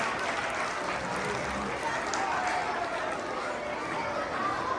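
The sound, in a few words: applause for honor society students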